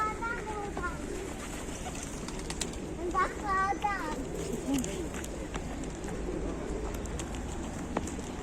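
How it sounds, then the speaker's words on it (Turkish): Pigeons cooing in an outdoor spot where children are feeding them, soft low coos among bird calls and ambient noise, with adults and children talking nearby. "bunlar güvercin değil mi?"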